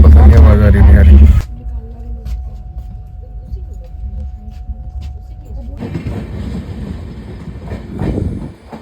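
A passenger train rides the rails: a loud rumbling roar drops to a quieter rolling clatter with a steady whine, then swells again, with voices heard now and then.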